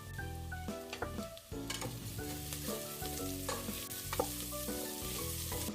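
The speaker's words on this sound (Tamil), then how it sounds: "வெங்காயம் நல்லா வதங்கி வந்துருச்சு" Onions with green chilli and rock salt sauté in a pan for nei sooru, a close, continuous sizzle with busy, irregular knocks and scrapes of a spoon stirring against metal.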